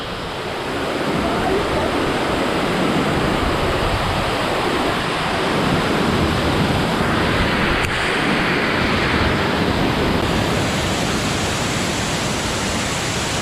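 Balea Falls in Negros Occidental, Philippines, rushing heavily after rain, a loud, close, continuous roar of falling water with no break.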